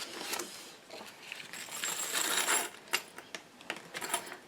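Small trinkets, buttons and gems tipped out onto paper, a close scatter of light clinks and rattles with several sharp separate taps toward the end.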